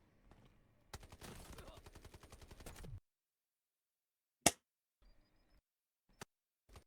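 A weapon fires in the video game Delta Force: a rapid, two-second burst of automatic fire, then a single sharp shot and a few faint clicks against near silence. The whole sequence is quiet and distant-sounding.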